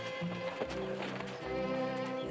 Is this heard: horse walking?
yes